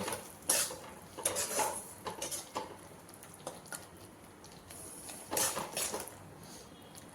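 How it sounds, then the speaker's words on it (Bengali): Spoon scraping and clinking against a pan while stirring mustard-poppy spice paste for Bengali pabda fish curry, with irregular metallic taps and scrapes at moderate level and no talking. "দিয়ে মশলাটাকে ভালো করে নাড়াচাড়া করব।"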